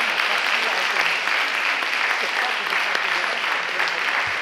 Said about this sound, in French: vous pouvez applaudir évidemment nos 4 autres académiciens